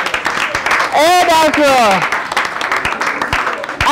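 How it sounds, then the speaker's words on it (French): A group of girls and women at a school's International Women's Day event clap for themselves, a dense round of applause under a loud voice that cries out over it and brief talk. "On applaudit pour nous-mêmes, les filles."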